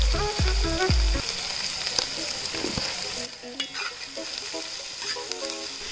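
Onions sizzle in hot oil with salt, opening with a few sharp clanks and stirring scrapes, then settling into a softer, steady frying hiss with light crackles.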